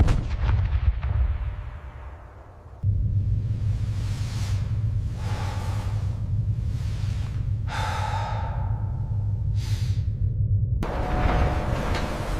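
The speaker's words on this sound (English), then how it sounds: "The sound of distant artillery never truly faded." Deep rumbling booms of distant World War II artillery roll in the background, punctuated by breathy whooshing gusts, with no talking.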